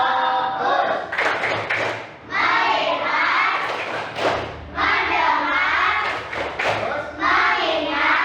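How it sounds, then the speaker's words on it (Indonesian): A group of participants, likely students or trainees in a classroom session, performs a rhythmic focus clap, with loud, close bursts of patterned hand claps and chanted voices in several phrases separated by brief pauses. "Yuk, mulai. Tepuk fokus."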